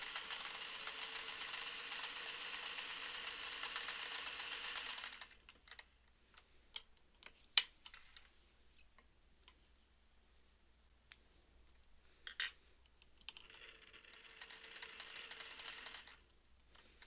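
A sewing machine stitches fabric pieces together, running steadily in a long burst, pausing through a quieter stretch with faint clicks, then starting up again. Nobody speaks.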